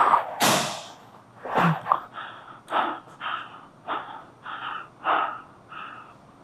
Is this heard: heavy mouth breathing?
yes